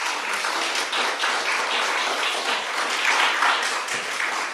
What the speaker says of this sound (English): Round of applause for Robin and her work, please.